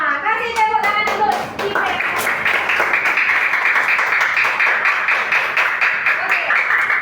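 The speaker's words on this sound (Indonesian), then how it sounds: "Kasih tepuk tangan dulu" Schoolchildren in an Indonesian fifth-grade classroom clap their hands together in a loud, sustained burst, with young voices calling out over the start before the clapping settles into a dense, steady patter.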